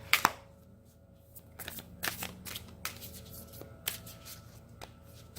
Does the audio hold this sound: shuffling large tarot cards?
yes